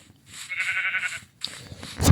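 Sheep bleats from the Minecraft video game, two wavering, nasal game-sound bleats in quick succession with a short gap between, heard alone and fairly clear.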